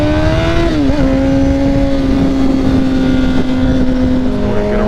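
A repaired motorcycle riding along at steady speed, its engine droning with a strong sustained tone that dips briefly after a gear change and then holds steady, loud and close, with no talk.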